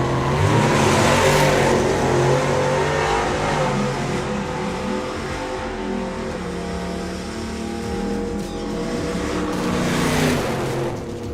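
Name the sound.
drag racing car, matte black Duster, accelerating down track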